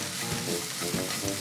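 Onion stir-fries in a hot pan, moved with chopsticks for a Japanese beef rice bowl, giving a dense, continuous close sizzle with soft stirring bumps.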